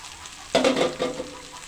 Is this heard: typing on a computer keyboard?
no